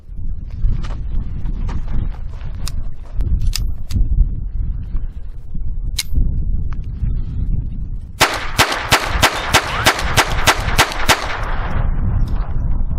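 Phoenix Arms HP22A .22 pistol firing Norma rounds outdoors, scattered single shots with gaps early on, then a rapid string of about a dozen sharp cracks in quick succession, loud and near against wind noise.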